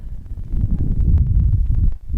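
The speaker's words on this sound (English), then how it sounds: "Heavy wind coming down now." Heavy wind buffets a microphone at an outdoor softball game, producing loud, continuous low rumbling and thumping gusts with no clear talk.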